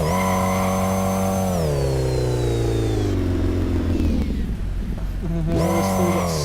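Loud, close car engine revs high, then winds down in a falling sweep to a rough idle before snapping back up in a sharp burst.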